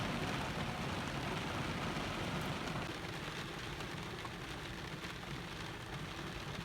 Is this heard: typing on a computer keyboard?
no